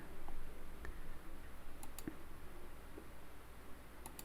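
Sparse, faint mouse clicks come from a computer running structural modelling software for a 3D steel frame and reinforced concrete structure, a few isolated ticks over a quiet room hiss.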